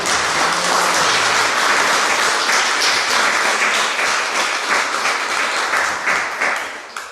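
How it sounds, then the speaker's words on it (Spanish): Church congregation applauding in praise after a worship message, a dense, steady wash of many hands clapping at close range that holds strong before tapering toward the end. "Y a darle un fuerte aplauso al Señor"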